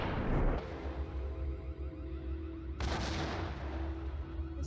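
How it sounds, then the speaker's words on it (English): Gunfire in the Max Payne video game: a loud opening blast with rumbling tail, then a steady low drone and another sharp burst of shots later, heard without talking. "This idiot keeps shooting the frickin' wall!"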